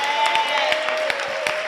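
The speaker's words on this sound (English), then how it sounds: "You must be clapping for yourself" A church congregation clapping at a Saturday rally, steady rhythmic claps at a moderate pace under a sustained tone, with a busy, roomy crowd feel.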